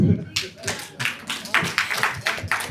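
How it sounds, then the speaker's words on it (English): A handful of people at a lecture clap sparsely and unevenly, with distinct separate hand claps that come close together and loosely in rhythm rather than as a full ovation. "Clap for him, please."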